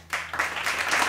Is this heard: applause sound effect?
yes